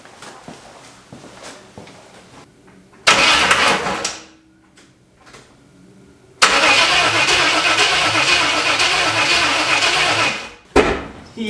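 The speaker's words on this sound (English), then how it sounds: "let's see if we can get the engine to rotate." A Chevrolet S10 pickup with a swapped 5.7 Vortec V8 cranks loudly with the starter in two bursts, separated by a pause, the second longer and steadier before cutting off.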